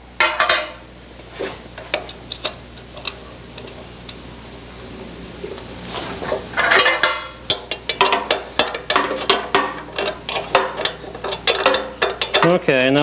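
A wrench tightens nuts on a Porsche 356 engine during assembly, giving rapid ratchet clicks in repeated bursts, sparse at first then dense and steady, close and fairly loud, with no talk.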